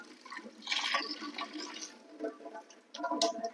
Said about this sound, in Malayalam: ഇതിൻ്റെ വെള്ളം അങ്ങ് ഊറ്റി കളയും